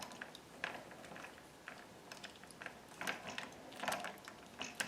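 A screw run up snug with Loctite 242 on a Cryhavoc AR15 quick-release barrel mount makes faint, close ratcheting clicks in small irregular bursts, spread over a few seconds against quiet background.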